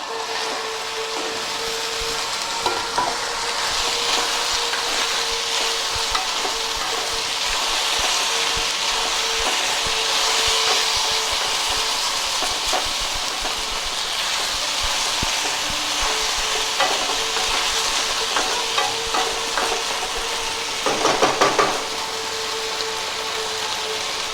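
Sliced potatoes fry in a pan on a stove, a steady crackling sizzle broken by occasional stirring scrapes and taps, close and fairly loud, with no talking.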